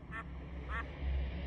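A duck in Final Fantasy XIV Endwalker gives two short nasal quacks about half a second apart, set against a dense, rumbling game soundscape.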